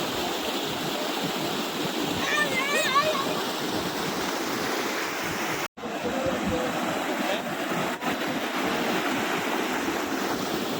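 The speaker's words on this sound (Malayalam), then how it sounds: "നല്ല ശക്തിയാലാണ് ഒഴുകുന്നത്." Strong river flow at Koodalkadavu check dam in Wayanad, a continuous loud rushing roar of water close by, steady throughout with one sudden brief dropout, voices faintly mixed under it.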